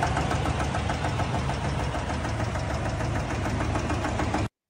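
A GM L87 6.2 V8 in a newer Yukon or Tahoe SUV idles with a loud, rhythmic metallic knock, heard close and steady without talking until it cuts off abruptly.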